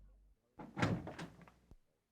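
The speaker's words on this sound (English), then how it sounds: "then Holmes got up and opened the door" Door being opened as an audiobook sound effect, a quiet, close wooden rattle and creak of about a second, ending in a soft knock.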